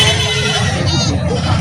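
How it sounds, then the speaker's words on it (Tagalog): A goat bleats in a wavering cry amid noisy background chatter and rumble, close by, at a livestock market in Uson, Masbate, Philippines. "Binibenta pa itong kambing na ito."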